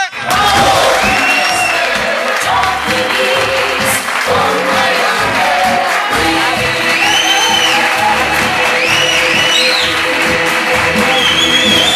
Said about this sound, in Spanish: Qué bueno todos esos aplausos.